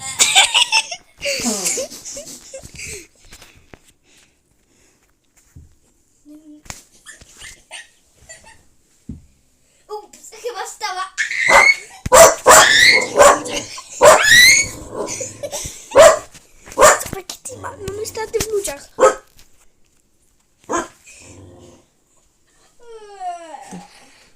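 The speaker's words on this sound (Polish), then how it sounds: "słyszałam psa!" A dog barks outside a house during a winter break while people laugh and talk loudly nearby, the barks mixed in among giggles and excited voices.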